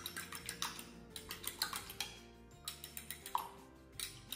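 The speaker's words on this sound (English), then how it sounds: "Then we're just gonna mix the eggs up really well" Cracked eggs whisked in a bowl for Vietnamese egg rolls, a utensil clicking rapidly and rhythmically against the bowl in quick regular strokes, close and fairly quiet, with no talking.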